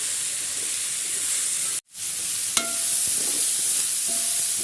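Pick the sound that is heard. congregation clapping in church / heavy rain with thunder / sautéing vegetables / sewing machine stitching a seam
sautéing vegetables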